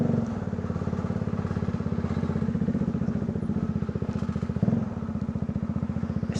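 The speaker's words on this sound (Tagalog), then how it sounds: "Slide na yung makina. Slide na yung clutch lining." A motorcycle engine with a worn, slipping clutch lining runs steadily and close by, a dense pulsing drone with a brief louder thump midway, revving while the drive slips at high RPM.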